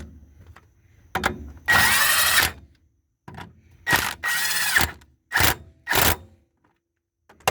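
Power tool tightening strut bolts on a 2011 BMW 535i 3.0L during a passenger-side strut replacement, several loud close whirring bursts of one to two seconds each, with quiet gaps between them.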